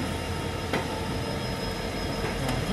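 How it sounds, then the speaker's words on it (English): A petroleum freight train rumbles past nearby at Solapur Junction, India, with a steady, continuous roar of wheels on rails and a faint metallic squeal. "Now we are on Solapur Junction and the goods train of petroleum."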